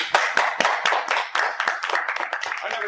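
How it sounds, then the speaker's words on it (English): A small group applauds at close range, steady dense clapping with sharp individual hand strikes running throughout, moderately loud and continuous with no voices on top. "Are we applauding you?"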